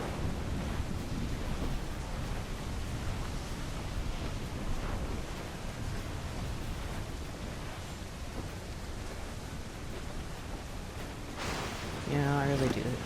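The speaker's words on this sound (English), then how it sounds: "Storm there, Captain! Looks bad!" Storm at sea in Assassin's Creed IV Black Flag, a dense, steady roar of wind, rain and crashing waves filling the whole stretch, with a brief louder burst near the end.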